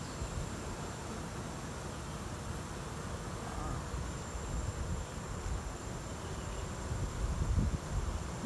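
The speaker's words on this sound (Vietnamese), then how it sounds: "Đấy, ong vẫn mang phấn về đấy." Honeybees at a hive in a tiered apiary after a storm, returning with pollen, make a steady buzzing drone outdoors that holds at a fairly even level and swells slightly near the end, with faint rustling mixed in.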